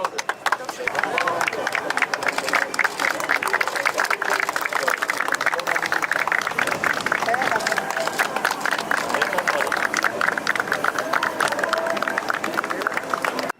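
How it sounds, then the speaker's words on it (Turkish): A crowd in Mersin claps at an outdoor public ceremony; quick, scattered handclaps rattle on steadily, mixed with crowd chatter and voices talking over them. "Alkış Mersin için."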